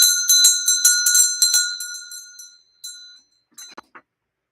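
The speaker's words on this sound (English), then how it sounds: "Ring the bell in her honor." A hand bell rung in a classroom, a quick series of bright metallic rings that trail off, followed by a few softer, sparser jingles, near and with no talking.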